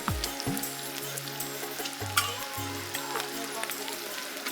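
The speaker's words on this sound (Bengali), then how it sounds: "মশলা কষানোর শুরু থেকেই নাড়ানাড়ি কিন্তু থেমে নেই" Spice paste with cinnamon and garlic sizzling as it fries, a continuous moderate crackle with light stirring scrapes throughout.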